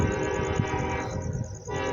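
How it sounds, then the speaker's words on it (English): Horn of a westbound grain train on the Harrisburg line, a sustained loud multi-tone blast over rumbling rail noise as the train approaches. "I heard the horn."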